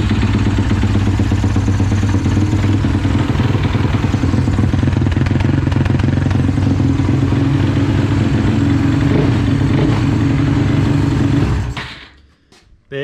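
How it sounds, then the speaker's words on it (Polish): A Suzuki LTR 450 quad's single-cylinder engine runs loud and close at a steady idle with rattling clatter, then cuts off abruptly near the end, leaving brief quiet. "Pyka maszynka"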